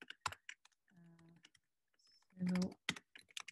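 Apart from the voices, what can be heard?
typing on a laptop keyboard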